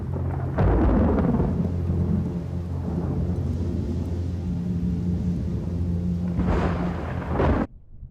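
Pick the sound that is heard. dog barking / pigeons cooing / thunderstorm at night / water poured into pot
thunderstorm at night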